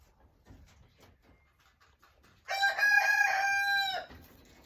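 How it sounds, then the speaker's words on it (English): A rooster crows once, loud and drawn-out, following a few seconds of faint background clucking and rustle from chickens. "The chickens are hungry."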